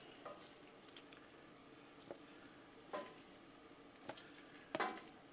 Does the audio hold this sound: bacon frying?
yes